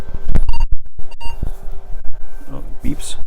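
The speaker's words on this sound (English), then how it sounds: "Oh, it beeps." A Commodore SX64 computer gives a few short electronic beeps close by as it powers up, mixed with clatter and handling noises, and someone speaks briefly.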